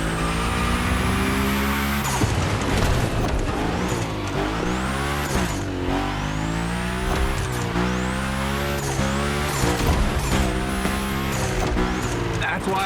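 A car slides through a drift in The Crew Motorfest, its engine revving up and down in rising and falling sweeps with tire squeal, steady and loud throughout, while a voice talks over it.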